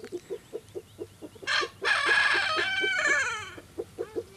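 Fly-fishing breed hens cluck in quick repeated bursts nearby while a rooster crows loudly in the middle, grey and red birds kept for their feathers.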